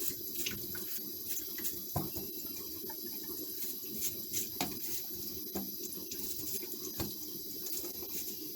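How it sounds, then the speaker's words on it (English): Water runs steadily from a kitchen tap into a sink while chocho is peeled for Jamaican pumpkin soup. The splashing patter is close and continuous, with occasional soft knocks. "So I just run a little water while peeling, so it won't leave that stain on your hand."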